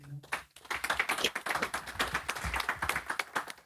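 An audience at a talk about digital audio advertising applauds to welcome a speaker, with dense close clapping that starts suddenly and holds steady for several seconds.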